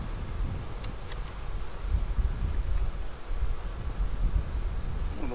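A honeybee colony buzzing steadily while its hive is moved, a dense, continuous drone close to the microphone with some wind rustle.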